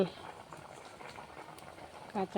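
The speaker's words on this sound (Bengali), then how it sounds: "এই যে ডিম রান্না করছি, ডিম কষা" Egg curry (dim kosha) cooking in a pot over a stove, a soft continuous bubbling simmer that stays fairly faint, with a couple of short louder clattering bursts near the end.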